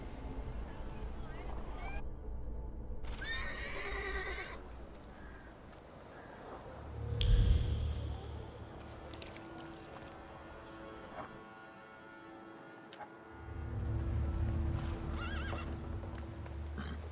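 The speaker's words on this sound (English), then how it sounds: "I meant to take the horse out for a ride" A horse in the video game The Thaumaturge, with neighing and clip-clopping hooves at moderate distance, heard alongside spoken dialogue and background ambience.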